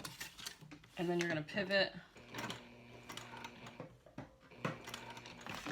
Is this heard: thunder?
no